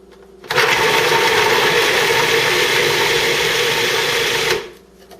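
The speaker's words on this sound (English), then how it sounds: "I'm going to go ahead and turn on the food processor and let it mix together a little bit." Food processor mixing chickpea salad, a loud steady whirring motor that starts abruptly, runs for about four seconds, then winds down and stops.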